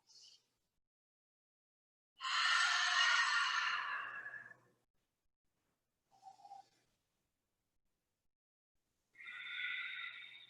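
Slow, deep breaths during a yoga practice: a long, airy exhale of about two seconds, a faint short breath, then another drawn-out breath after a pause, close and quiet otherwise.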